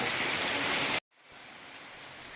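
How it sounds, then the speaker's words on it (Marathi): Dense, steady hiss of heavy rain pouring down on a garden, then an abrupt cut to a softer, quieter wash of rainfall. "बघता बघता जोरदार पावसाला सुरुवात झाली"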